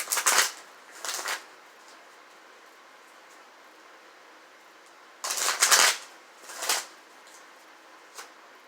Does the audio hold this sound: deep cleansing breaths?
no